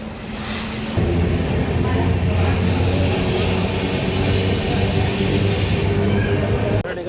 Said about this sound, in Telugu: మన ట్రైన్ అయితే బయలుదేరుతుంది గూడూరు రైల్వే స్టేషన్ నుండి